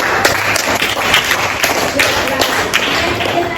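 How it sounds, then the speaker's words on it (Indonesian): Students in a classroom applaud the second group, a loud, close patter of many hands clapping at once with sharper individual claps poking through the steady wash. "Oke, kasih tepuk tangan buat kelompok kedua."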